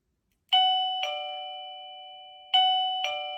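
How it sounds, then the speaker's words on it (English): A wireless plug-in doorbell chime set to volume level 4 rings twice in a row, each press giving a clear two-tone ding-dong with long ringing decay, loud and close with no talking. "if I push the doorbell button"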